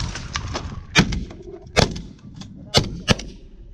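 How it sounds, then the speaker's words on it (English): Shotgun blasts during an outdoor goose hunt, four sharp, loud reports spaced unevenly over a few seconds against wind and field noise. "we gotta shoot those two"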